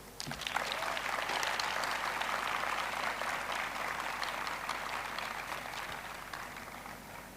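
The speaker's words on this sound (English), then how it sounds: "A big applause for this group." A crowd at a high school graduation claps steadily, a full burst of applause that slowly fades toward the end, with no voices over it.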